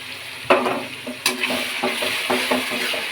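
Tomato puree and garlic paste frying in a pan while being stirred, with a close, steady sizzle broken by scraping stirring strokes.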